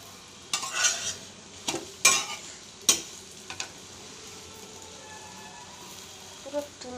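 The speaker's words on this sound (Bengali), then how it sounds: "এর উপর দিয়ে সামান্য একটু তেল দেবো এমনি তেল বেরোচ্ছে" Sweet paratha fries in a little oil on a hot pan over a high flame, a low sizzle under sharp intermittent clatters of a spatula against the pan, with a voice faintly present.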